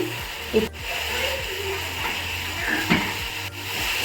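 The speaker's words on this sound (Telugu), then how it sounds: "సో క్యాబేజ్ అయితే బాగా మిక్స్ అయిపోయింది ఇంకోటి బాగా మగ్గిపోయింది" Cabbage frying in a pan as a spoon stirs it, giving a steady loud sizzle with scraping strokes and a few sharper clinks against the pan, and no talk.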